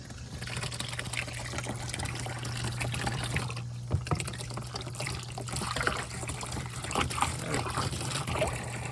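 Water from a pump pours and trickles steadily through a Halloween toxic-waste decoration, a continuous close splashing flow with a faint hum beneath.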